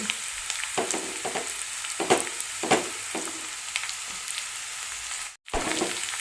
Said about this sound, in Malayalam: ഇനി നമുക്ക് പച്ചമുളക് ഇട്ട് കൊടുക്കാം